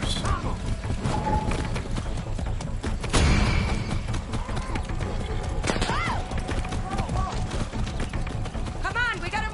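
Horse hooves clip-clop rhythmically during a ride in the video game Far Cry, mixed with game sounds, a brief crash, neighs and whinnies, and background music.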